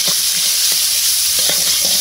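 Onions, green chilies and whole garam masala fry in oil in a pan, giving a loud, steady close-up sizzle with occasional soft knocks of stirring.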